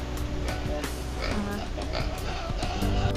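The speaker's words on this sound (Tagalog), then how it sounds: "magpakain na tayo sa ating alagang baboy" Pet pigs grunt and oink at feeding time, a steady stream of close, overlapping grunts against a busy background of farmyard noise.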